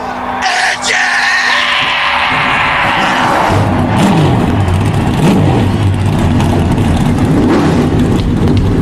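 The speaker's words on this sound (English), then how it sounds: "gentlemen, start your engine!" NASCAR race car engines start and rev loudly at a speedway, a sustained roaring drone with rising and falling engine pitch and crowd noise, dense and close throughout.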